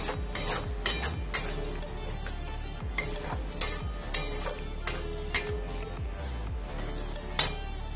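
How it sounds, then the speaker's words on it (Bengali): Fish kalia masala sautéing in a pan with salt, a steady sizzle under repeated scrapes and clinks of a spoon stirring against the metal, with several sharper knocks. "ভালো করে একটু কষাতে হবে।"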